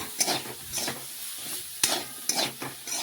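Spatula scraping and stirring through sizzling bitter gourd in a pan, a few rhythmic strokes over a steady frying hiss, close by.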